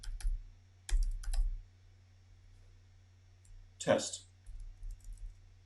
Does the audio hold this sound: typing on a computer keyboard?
yes